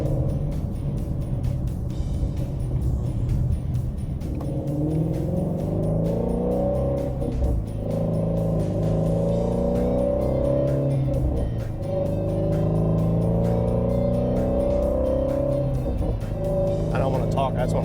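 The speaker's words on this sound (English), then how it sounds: "I don't want to talk, I just want to listen to the engine." Shelby Mustang GT350 engine running during a test drive, a loud, steady, deep engine note heard from inside the car with rising and falling pitch as it revs and shifts throughout.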